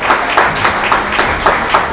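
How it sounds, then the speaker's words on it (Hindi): Loud, dense applause fills the hall at an oath ceremony and installation of a new managing committee, steady clapping with a few sharper pulses, close and continuous. "अब जोर से तालियां"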